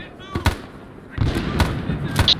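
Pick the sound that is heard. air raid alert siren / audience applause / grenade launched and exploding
grenade launched and exploding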